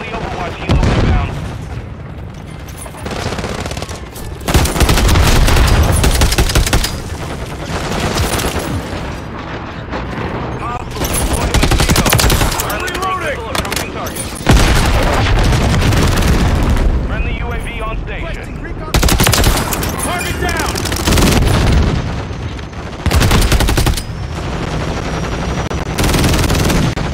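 Heavy automatic gunfire and explosions from Call of Duty MW3 on Xbox, played on the Shipment map, loud and nearly continuous with bursts and blasts across the whole stretch, with speech mixed in.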